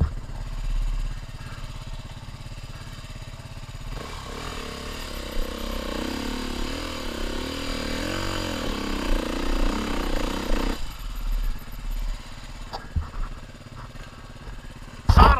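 Trail bike motorcycle engine running outdoors on a bush trail, a steady mid-pitched engine drone that swells into a revving stretch midway, then settles with some clatter near the end and no clear talk.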